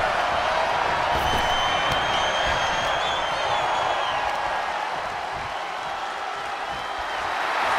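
A dense, roaring crowd cheers continuously at high volume, a steady wall of voices with faint whistles rising above it, in a wrestling arena in the video game WWE 2K23.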